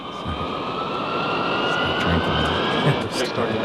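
Airliner jet engines roar steadily at an airport during takeoff, a loud continuous rumble with a high whine, while voices talk over it.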